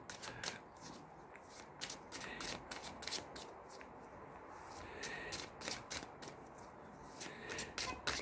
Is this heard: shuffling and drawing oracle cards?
yes